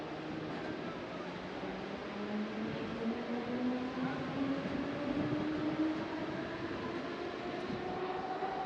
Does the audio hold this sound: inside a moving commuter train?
yes